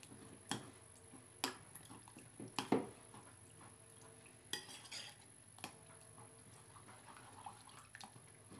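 A utensil scrapes and taps against a bowl as sauce is whisked with hot water, making irregular light clinks and strokes. The sound is close but quiet, with soft swishing between the taps.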